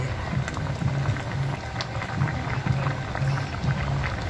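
Ginataang tilapia with pechay and eggplant simmers in coconut milk in a pot, giving a steady, close bubbling and gentle popping that carries on without a break.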